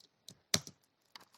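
Keys on a computer keyboard are tapped while Python code is entered, a few scattered crisp clicks with one louder strike near the middle, close and clear with no talk.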